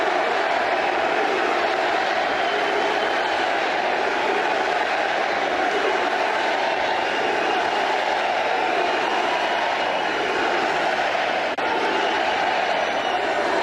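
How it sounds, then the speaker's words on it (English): A large crowd at a Trump rally in Erie, Pennsylvania roars steadily, a dense, continuous wall of cheering and shouting that holds at an even, loud level for over thirteen seconds. "The roar of the crowd."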